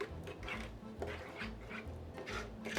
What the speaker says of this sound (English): We're gonna go ahead and add some onion powder, some garlic powder. And let's just give this a good mix around.